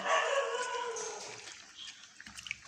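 Dogs yelping and whining in a long, high-pitched run, then a few short sharp sounds, fairly faint and heard from some distance.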